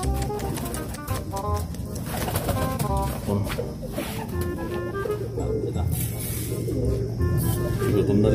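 Pigeons in a home flock coo with low, repeated throaty calls throughout, heard under continuous talking.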